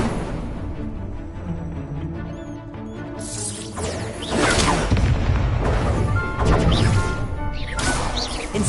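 An Incendio fire spell is cast in Hogwarts Legacy and bursts into a loud, sustained roaring whoosh with crashing impacts, swelling in the second half amid dense game battle noise.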